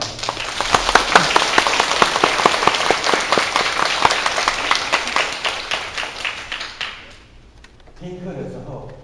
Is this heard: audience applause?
yes